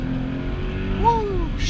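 An E85-tuned Toyota FRS accelerates hard in first gear on a canyon road, its engine note rising steadily and loudly from inside the cabin.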